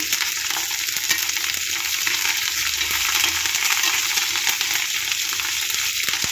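Curry leaves and seeds frying in hot oil for an Indian garlic chutney, giving a steady, loud, dense sizzle with crackle and occasional stirring scrapes throughout.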